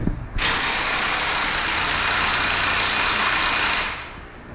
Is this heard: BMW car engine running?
yes